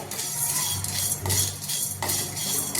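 Whole cloves dry-roasted in a pan for garam masala, stirred with a metal spoon: repeated scraping and rattling strokes in an uneven rhythm, close up, with a faint crackle beneath.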